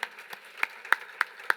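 Sparse, light clapping from a small audience at a campaign kickoff event, a handful of distinct claps spaced about a third of a second apart, fairly faint.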